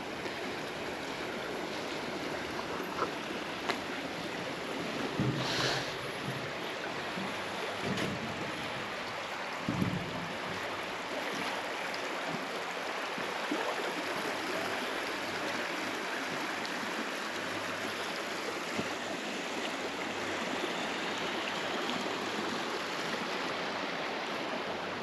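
Water pouring through a gate into the canal at the Bakhchisaray reservoir, a steady broadband rushing roar that holds constant and close throughout with no voices.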